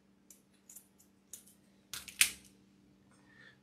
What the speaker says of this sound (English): So I'm gonna cut this off.